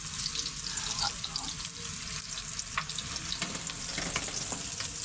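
Squid and tomatoes sautéing in a pan, a continuous close sizzle and hiss of frying with occasional clinks and stirring scrapes.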